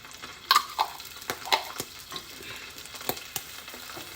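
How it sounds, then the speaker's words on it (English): Ginger and garlic stir frying in a small amount of oil, a close steady sizzle broken by several sharp crackles and spatula clacks as the pan is stirred, with no voices. "you don't need a lot of oil when you stir frying your vegetables"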